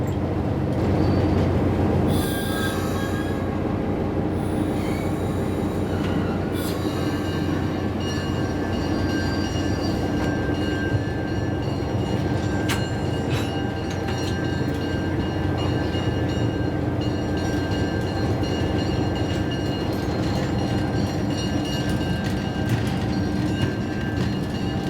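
Inside the locomotive cab of a Nevada Southern Railway heritage train, a steady engine rumble and clattering wheels on rail run continuously, with occasional metallic squeals and knocks close at hand.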